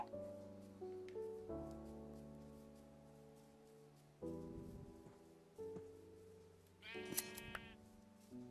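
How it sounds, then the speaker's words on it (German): Several sheep bleats from the Minecraft video game sound in short bursts, the loudest cluster near the end, over sustained tonal game music. "Ich sehe hier nur noch gescherte Schafe."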